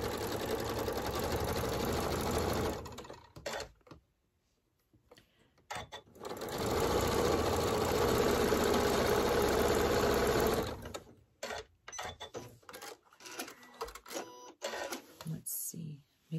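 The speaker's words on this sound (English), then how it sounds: "And now I'm just gonna start sewing." A sewing machine stitches a quilt block in two long continuous runs of steady whirring, close and loud, separated by short pauses and ending in brief stop-start bursts.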